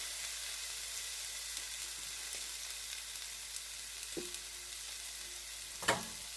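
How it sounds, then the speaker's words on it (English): Onions with green and red peppers fry in a little oil in a non-stick pan, giving a steady close sizzle, with a couple of faint stirring clinks near the end. "with that same oil that's in the pan, it's not much, but since this non-stick, we're just gonna add our onions, green pepper, and red peppers in there"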